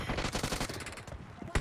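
Shotgun fire in a BGMI team deathmatch comes as a rapid string of booming blasts, loud and close, ending in one heavy shot, with a voice faintly underneath.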